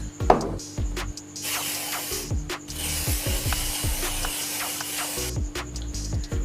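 Several hissing bursts of cooking spray onto a baking tray, close and fairly loud, with a longer spray in the middle and short clicks and clatter between.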